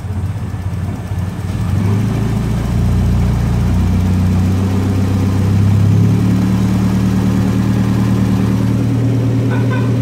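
A tuned turbocharged Miata engine settles into a rough, steady idle after a short stretch of lower noise, loud and close, with a deep continuous drone throughout.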